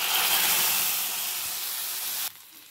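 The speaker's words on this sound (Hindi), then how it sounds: "अब इसमें फटाफट मैं छौंका मार लेती हूँ" Hot oil tempering (chhaunk) spits in a pan, giving a loud continuous broadband sizzle that holds steady and then drops sharply near the end.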